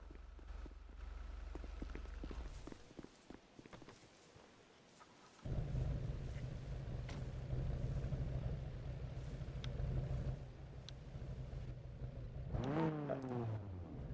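A car in a GTA roleplay game drives with a steady engine drone that shifts pitch midway and revs near the end, moderately close and fairly quiet, with no talk over it.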